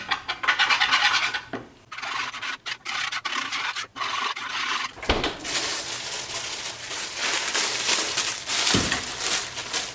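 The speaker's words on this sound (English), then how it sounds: "we're going to whisk this all together and then just set it aside" Salad dressing being whisked in a bowl, a steady close scraping and rubbing that runs almost without pause, broken by a few short gaps and a couple of sharper knocks. No talking.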